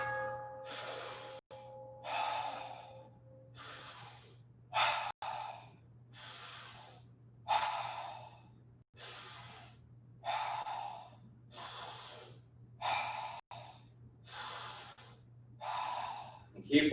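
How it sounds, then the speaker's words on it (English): Loud, close breaths repeat during a guided breath-hold exercise: a series of deliberate inhales and exhales in a steady rhythm, each a separate airy burst with short pauses between, under a low steady hum. "I usually breathe just a little extra loud so you guys can hear me"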